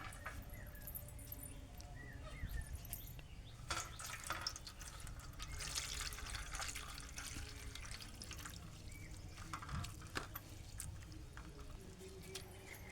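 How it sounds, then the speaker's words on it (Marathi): Flowers being rinsed clean in water, heard as faint, irregular splashing and dribbling like water running at a sink, quiet and continuous. "फुलं काढून झालेले आपण आता ह्याला धुवूया, स्वच्छ धुवून घेऊया."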